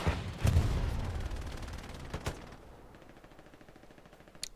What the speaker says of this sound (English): Here's the gunshots.